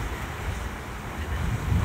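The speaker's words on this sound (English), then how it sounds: "coming up off that water when it's hitting those rocks" Waves breaking and spraying against shoreline rocks at Po'ipū, Kaua'i, a steady close wash of surf with wind buffeting the microphone and low rumbling swells throughout.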